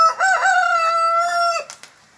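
A rooster on an agroforestry farm crows once, near and loud, a drawn-out strained call that cuts off sharply and is followed by a short cluck, with no talking.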